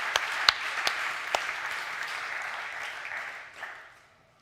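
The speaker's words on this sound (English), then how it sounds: "let's give them a hand of applause" A smaller, thinner round of applause at a hackathon closing ceremony, with a few sharp individual claps standing out early, holding briefly and then fading away into quiet.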